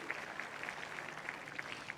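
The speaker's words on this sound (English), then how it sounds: "Give them a clap" Tennis crowd applauding the umpire at a Kyrgios v Zverev match, a faint, steady patter of clapping from a distant audience with no talk over it.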